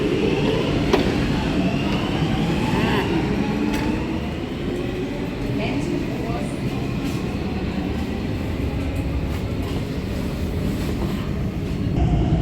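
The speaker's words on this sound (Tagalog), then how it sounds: "Iso-Omi na Metro Station Subway. Ayan na ang papunta ng Helsinki. Sasakay na tayo." A metro train at Iso Omena subway station in Helsinki: a steady low rumble of the moving train with rail hiss and faint squeals, continuous and fairly loud, with a few sharp clicks over it.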